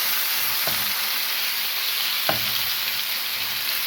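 Chicken frying in a pan, a loud, steady hiss of sizzling oil close by, broken by two brief knocks of a utensil.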